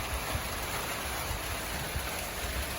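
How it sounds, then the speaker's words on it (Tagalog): Heavy rain pours steadily over a vegetable garden, a dense continuous hiss of drops close by with no voices, growing stronger throughout. "medyo lumalakas yung ulan yan na lumalakas na yung ulan"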